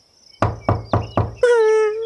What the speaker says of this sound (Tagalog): Teka, may kumakatok.